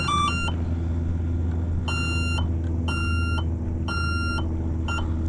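Several short electronic beeps from an RC aircraft's electronic speed controller during calibration sound in a clipped sequence of tones over a steady low hum, with brief pauses between groups.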